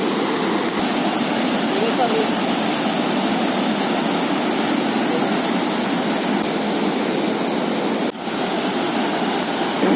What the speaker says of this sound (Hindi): लगातार बारिश होने के कारण नदी में काफ़ी उफान है। बहुत ही लहरें तेज चल रही हैं